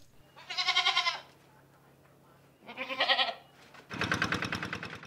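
Goats on an Indonesian farm give three separate bleats, each about a second long and spaced by short pauses, fairly close and clear against a quiet background.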